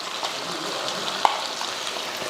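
Chicken varuval being stirred with ground masala in a pan, an even low sizzle with a single small clink of a spoon against the pan.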